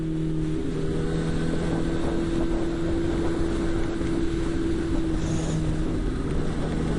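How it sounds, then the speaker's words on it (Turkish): Constant roaring wind buffeting the microphone over a steady motorcycle engine drone while riding along a city avenue, loud and unbroken throughout. "Cidden çok fazla rüzgar var"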